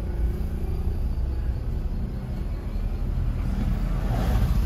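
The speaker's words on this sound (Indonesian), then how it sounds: "ini intinya ngetes suara dalam kabin ketika kaca depan ya, yang saya sampaikan di sini, kaca depan dibuka" Steady low rumble of wind and road noise inside the cabin of a 2022 Toyota Innova Reborn driving in second gear with the front window open, continuous and fairly loud with no talking.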